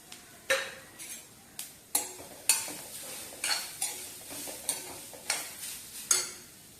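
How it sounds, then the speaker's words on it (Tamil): Coconut sautéed with popped mustard seeds and fenugreek in a pan gives regular scraping stir strokes roughly every half second over a soft frying sizzle, close and distinct, with no speech. "ஒரு 10 சின்ன வெங்காயம் அதை ஆட் பண்ணி தேங்காய் கோல்டன் ப்ரௌன் ஆகிற வரைக்கும் வதக்கிக்கலாம்"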